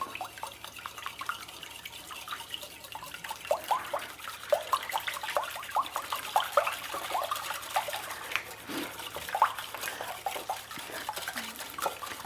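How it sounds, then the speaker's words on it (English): Three eggs and whole milk whisked together in a bowl, a quiet, fast wet ticking and sloshing that runs steadily, close and soft, without any talk. "So for today's recipe, I'm using 3 eggs and 2/3 of a cup of whole milk. Okay, and we'll whisk this together."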